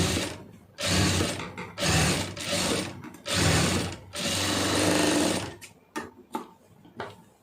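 Sewing machine stitching a fabric band in a series of rapid mechanical bursts, each a second or so long, separated by short pauses, close and clear, with a few lighter clicks at the end.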